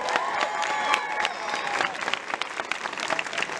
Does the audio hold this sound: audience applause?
yes